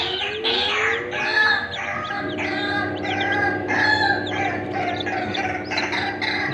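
Continuous high-pitched peeping of many newly hatched layer-breed chicks in a homemade incubator, steady and fairly loud, with overlapping chirps throughout.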